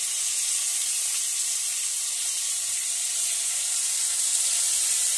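Mustard and cumin paste sizzles in a pan with a spinach curry, a loud, steady frying hiss that holds unbroken throughout with no voices.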